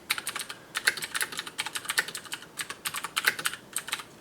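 Rapid, uneven bursts of computer keyboard typing while a simple program is entered on a vintage RC2014 or Heathkit H8 setup, the clicks close and loud with short pauses between runs of keystrokes, no voices.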